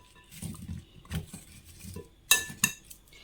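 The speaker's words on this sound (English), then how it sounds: "I'm going to mix everything together." Potatoes being mixed with oregano and olive oil in a dish, soft irregular scrapes and pats with a couple of sharp utensil clinks against the bowl near the end, no talking.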